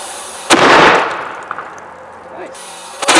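A 3D printed can cannon fires a bullet with a 30-grain charge outdoors: one sharp loud blast that decays over about a second, with faint distant sounds afterward.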